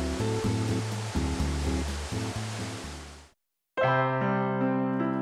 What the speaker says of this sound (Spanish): se escucha los sonidos de la cascada y de la corriente del